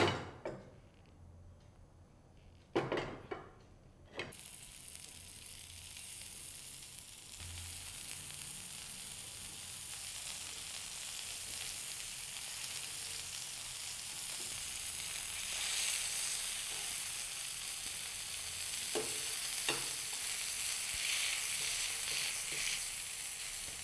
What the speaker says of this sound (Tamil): இந்த மாதிரி நம்ம மிக்ஸ் பண்ணி வச்சுருக்கிற சிக்கனை போட்டு ஃப்ரை பண்ணி எடுக்கணும்.